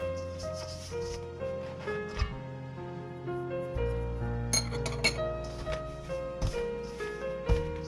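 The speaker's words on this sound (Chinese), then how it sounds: "然后加入300毫升室温水，边加边搅拌" Room-temperature water stirred into flour in a bowl for flatbread dough, heard as light scattered clinks and taps of a utensil against the bowl beneath steady background music.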